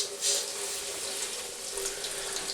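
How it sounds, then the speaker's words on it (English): Cold tap water runs steadily over a pot lid in a kitchen sink, a close, even hiss and splash that stays constant throughout. "What I'm going to do is I'm going to run some cold water over the lid."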